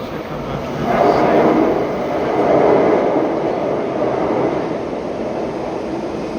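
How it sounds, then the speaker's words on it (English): A London train pulls into a station, its broad rumble swelling twice and then settling into a steady roar that fills the platform, with faint voices underneath. "here comes our train."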